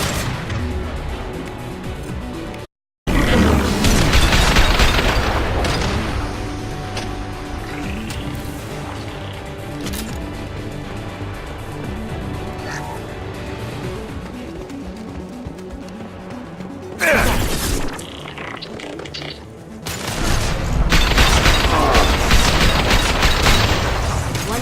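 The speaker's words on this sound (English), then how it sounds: "Taking heavy fire." Heavy gunfire and explosions in Mass Effect 2 combat, loud dense bursts of shots and booms with brief cutouts and sudden swells, close and continuous without talk.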